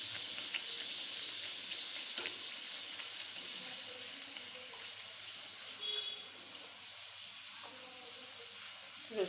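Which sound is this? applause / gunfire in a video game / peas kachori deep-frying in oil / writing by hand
peas kachori deep-frying in oil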